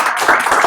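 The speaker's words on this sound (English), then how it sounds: "Please give him a round of applause." Brief burst of audience clapping after a pitch session presenter is thanked, dense and steady for under a second at close range.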